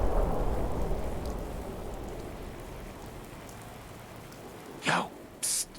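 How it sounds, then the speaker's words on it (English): Rain falls steadily in Fallout 4, a dense hiss that is loudest at the start and eases off, with two short, sharp bursts of sound near the end and no speech. "Just thinking how wonderful it'd be to get out of this infernal rain."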